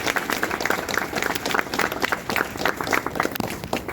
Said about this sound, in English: let's give a round of applause for Brian and Christopher